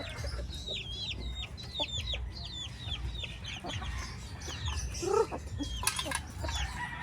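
Backyard chickens kept behind a house cluck in an overlapping, steady chorus at close range, with a few sharper calls near the end.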